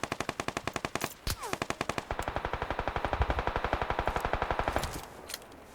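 Rapid automatic gunfire in PUBG Lite, loud and close, with fast bursts of evenly spaced shots running almost continuously, a brief pause near the start, then a long sustained volley that stops abruptly.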